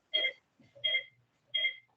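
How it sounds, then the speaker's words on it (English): A phone rings during an online advisory board meeting, with three short electronic ringtone bursts in an even rhythm, fairly faint and heard on their own without talk. "think maybe that's your phone"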